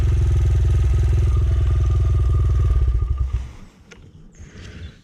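Honda CRF100F dirt bike ridden off-road with tamer gearing, its single-cylinder engine buzzing loud and steady up close, then cutting out abruptly to quieter rustling and clatter.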